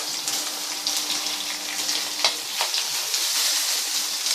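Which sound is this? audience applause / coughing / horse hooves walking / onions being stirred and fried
onions being stirred and fried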